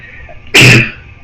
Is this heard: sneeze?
yes